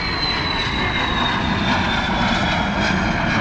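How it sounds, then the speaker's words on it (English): Airplanes fly near an airport, a steady loud roar of aircraft engine noise with a faint high whine running through it, continuous and unbroken. "See the airplanes behind me there?"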